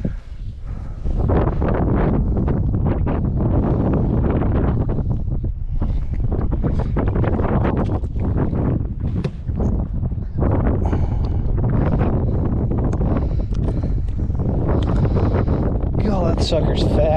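Strong wind buffeting the microphone outdoors on a kayak during a fishing trip, a constant loud roaring rush throughout with gusty fluctuations, with someone talking over it.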